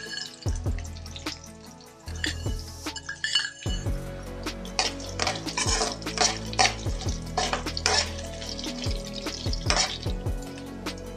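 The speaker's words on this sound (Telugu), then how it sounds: "పచ్చిమిర్చి కొద్దిగా ఫ్రై అయినాక 2 స్పూన్లు నేను ధనియాలు వేసుకుంటున్నాను" Green chillies with coriander seeds dropped into a pan for gongura chutney, crackling and popping in hot oil with sharp metallic clinks of a spoon against the pan, no voices.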